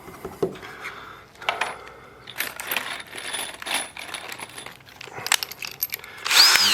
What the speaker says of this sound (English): These are self-tapping screws, but I pre-drilled them because I don't want it splitting.